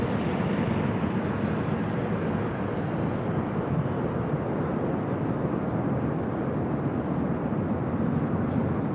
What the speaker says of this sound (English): Now entering the shot is Delta Airlines 568, about to take off to Dallas, Fort Worth on an A320